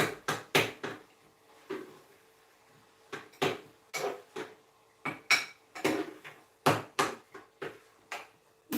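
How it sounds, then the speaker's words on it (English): A spoon stirring apple filling in a pot on the stove, heard as a quick run of sharp knocks and scrapes against the pot in irregular bursts, close and fairly quiet with no voices. "So in this time I will mix in apple."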